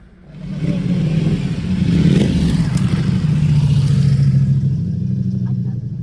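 Motorcycles roll up to a ferry queue, engines swelling loudly as they approach and then holding a steady rumble nearby.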